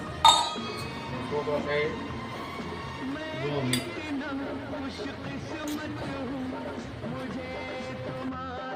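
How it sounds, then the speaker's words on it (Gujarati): Utensils clink against a metal or glass bowl while oil is added to bhakri flatbread dough, a few sharp near clinks over steady kitchen background with voices talking. "હવે આપણે અંદર આમાં તેલ નાખીશું. ભાખરી સરસ મજાની બનાવી નાખીએ."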